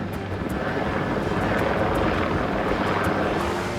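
A police helicopter arrives overhead during a coastal chase after poachers, its rotor and engine roaring in a loud steady drone with faint rhythmic blade chop near the top.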